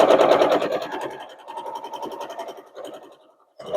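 A close sewing machine stitches bias binding around a curve, running loudly at first and then in softer, uneven bursts as the fabric is fed slowly.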